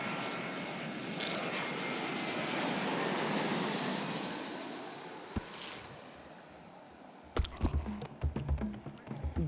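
A fixed-wing airplane climbing after takeoff gives a loud, steady engine roar that swells and then eases, followed near the end by a few sharp knocks and rattles, with no voices.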